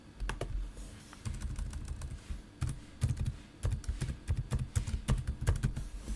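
Close, steady typing on a computer keyboard, with irregular runs of soft key clicks and occasional louder taps, and no talk over it.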